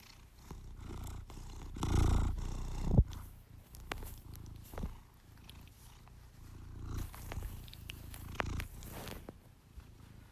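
A cat's soft, close purring rumbles low and irregular, with scattered rustles and clicks around it and no talking.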